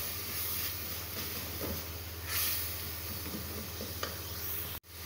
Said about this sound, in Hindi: और इसको मैं अच्छी तरह से भून लूँगी मसाले को।